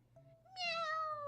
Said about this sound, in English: there's a cat meowing for me